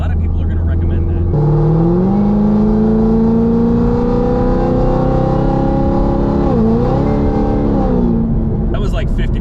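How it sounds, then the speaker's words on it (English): A 2022 Chevrolet Camaro ZL1 1LE accelerates at roughly half throttle up to highway speed, its engine note climbing steadily and loudly with a brief dip at a gear change before rising again. "That was just kind of accelerating to highway speeds."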